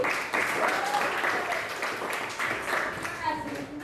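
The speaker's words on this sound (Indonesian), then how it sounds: "Kita beri tepuk dulu" A class of pupils gives steady, fairly quiet clapping that continues throughout, with a voice speaking over it.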